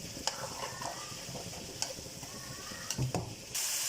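Stirring macaroni seasoned with black pepper and salt in a pan, soft scraping and light sizzling with a few sharp utensil clicks against the pot, close and fairly quiet.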